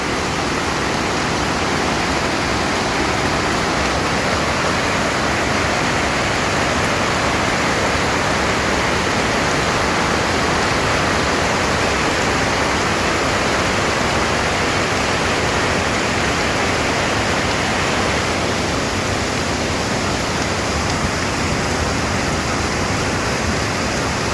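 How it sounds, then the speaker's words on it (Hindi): Heavy monsoon rain pours steadily through the night before dawn, a dense, even roar of falling water that holds for the whole stretch with no voices. "बारिश, इतनी बारिश, रात भर बरसा है बादल"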